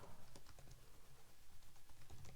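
Soft, steady tapping of a computer keyboard as a short text prompt is typed, close and continuous with an even rhythm.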